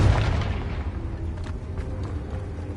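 Confringo fire spell blast in Hogwarts Legacy, a deep rumbling explosion that starts loud and slowly decays into a low sustained roar, with faint crackles on top.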